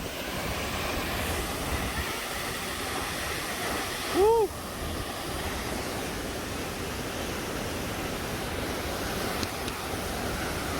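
Steady roar of a waterfall in the Otways forest throwing a lot of water, a constant broadband rush at close range, with a brief whoop from a person partway through.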